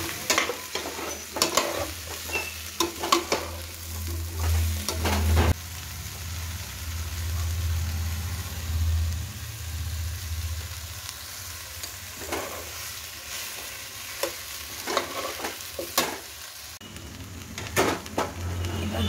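Tomatoes frying in a pan with turmeric, a steady close sizzle broken by scraping stirs and occasional clatters of a utensil, continuous throughout with no talk.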